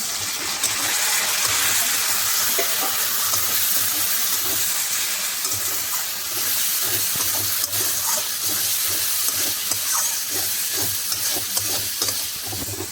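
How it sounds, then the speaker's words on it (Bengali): Mutton sautéing in a pan with chilli, coriander and cumin powder and a little water, a loud, dense, continuous sizzle with steady scraping and stirring, close and alone. "লঙ্কা গুঁড়ো, ধনে গুঁড়ো আর জিরে গুঁড়ো, এই দিয়ে আমি এবারে অল্প একটু জল দিয়ে আমি কষাবো"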